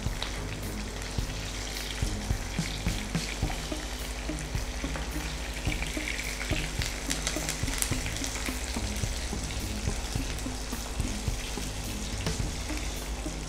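Pomfret masala fry sizzling steadily in a pan, a dense continuous crackle with frequent stirring scrapes and clinks throughout, close and fairly loud with no talking.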